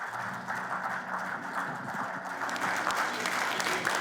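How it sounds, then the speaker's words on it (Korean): An audience applauds to welcome a speaker at a presidential candidates' science and technology policy debate. The clapping is dense, steady and moderately loud throughout, from a large crowd. "힘찬 박수로 맞이해 주십시오"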